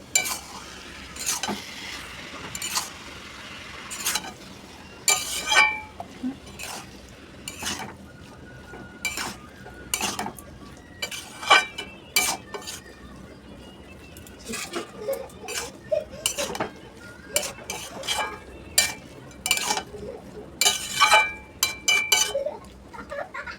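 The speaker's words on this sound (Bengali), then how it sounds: "মোচা বাটাটা দিয়ে দেবো, কাবলি ছোলা সিদ্ধ আর মোচা সিদ্ধ দিয়ে দেবো" A spatula scrapes and clanks against a pan while banana flower paste and boiled chickpeas are stirred, irregular metallic knocks and scrapes over a faint low sizzle, close up with no speech.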